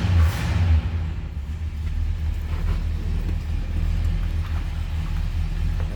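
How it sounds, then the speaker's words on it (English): A 1968 Oldsmobile 442 convertible with a 455 V8 idles with a steady, deep low rumble, close by and continuous with a slight surge near the start. "Nice little rumble out of that 455"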